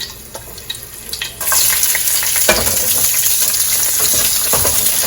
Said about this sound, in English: So I'm just gonna go ahead and put all this stuff in my skillet.